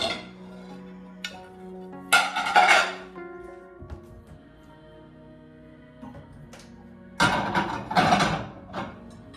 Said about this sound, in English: it's just putting the dishes away